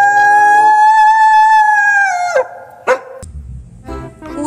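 A white wolf in Jurassic World Evolution 2 gives a long, loud, steady tonal howl that bends downward and breaks off. Two short barks follow, then fainter game sounds.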